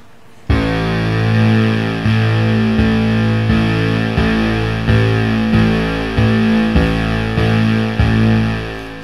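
A loud, buzzy Memorymoog analog synthesizer with its filter opened up pulses in a steady repeating rhythm, bright and harmonically rich with a thick, driving low end; no voices.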